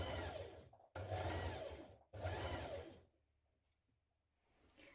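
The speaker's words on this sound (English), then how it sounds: "We're going to stitch all the way along this top neckline, catching the facing and the jacket pieces together with a 1 cm seam." Sewing machine stitching a 1 cm seam along a coat neckline through facing and jacket pieces, running in two steady whirring bursts separated by brief pauses, then falling quiet with faint handling noise.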